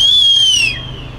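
A referee's whistle at an amateur football match in Greece: one long, shrill, steady blast that tails off, heard close and loud over faint background noise.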